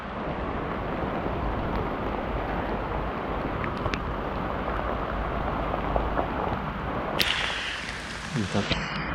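Steady rain falls outdoors during a mushroom foray in a eucalyptus plantation, a continuous broadband hiss of drops on leaves and ground, with a few sharp ticks and a louder rustle near the end.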